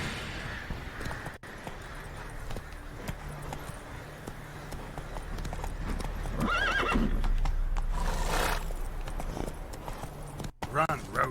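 In The Witcher 3, the horse Roach gallops with a steady clip-clop of hooves and lets out a whinny midway, while a person talks over the game sound.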